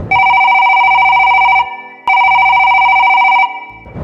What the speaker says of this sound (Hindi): इसी दौरान फोन की घंटी बजती है